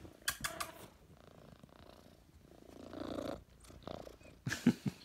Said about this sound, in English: Here, kitty, kitty. Come here.